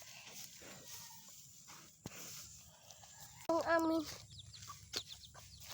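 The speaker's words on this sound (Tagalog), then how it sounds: "Itong aming manok, nag-anak na siya." A mother hen gives a short run of clucks over quiet background noise and faint voices nearby.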